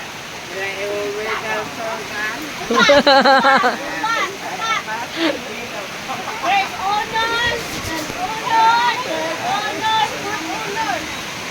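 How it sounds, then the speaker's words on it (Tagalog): Heavy rain pouring steadily on a rural farm home, a constant wash of falling water beneath children's shouting and family chatter close by. "Lakas ng ulan."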